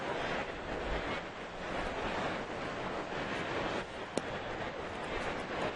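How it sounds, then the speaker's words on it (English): Steady, broad wind noise rushing across a microphone on a baseball field during a game, constant and fairly loud throughout, with a brief sharp click near the end. "very windy down on the playing field"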